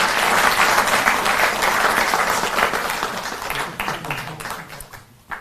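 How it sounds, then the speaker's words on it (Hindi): Audience applause at a farmers' event in Delhi, a dense wash of many hands clapping that stays steady, then thins and tapers off toward the end. "तो एक बार जोरदार ताली बजती रहें।"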